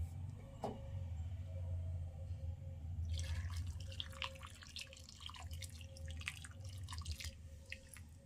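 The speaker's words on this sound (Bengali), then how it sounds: "এবার এই সিদ্ধ আমগুলো এই বাটিটার ভিতরে নিয়েছি এবার এর ভিতরে সেরাটা ঢেলে দেবো" Sugar syrup poured over boiled green mango pieces in a bowl for a mango pickle, a drip at first then a steady trickling splash of liquid over a low background hum.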